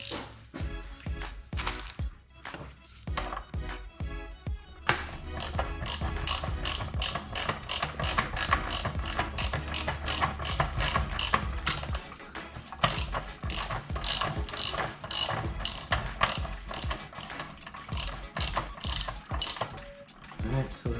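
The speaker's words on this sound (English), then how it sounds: "Now we'll just finish it off with a ratchet." Rapid clicking of a hand ratchet snugging a bolt on a 2021 Yamaha YFZ450R ATV during a build. Bursts of close, crisp pawl clicks come in runs, then a long steady stretch of fast ratcheting.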